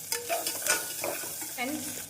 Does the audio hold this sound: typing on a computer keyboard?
no